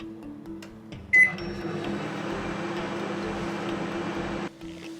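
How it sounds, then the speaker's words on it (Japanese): A microwave oven running at 600 watts to heat a frozen food container, giving a steady, even hum with a soft start click and beep, stopping cleanly after about three seconds. "600ワットで3分チンします。"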